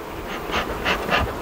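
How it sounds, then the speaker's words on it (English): Honeybees buzz around an opened hive during a beekeeping inspection, agitated after one bee was crushed. A close, continuous, dense hum pulses louder in several quick surges, with no voices over it. "I squashed a bee, that's why they're getting riled up."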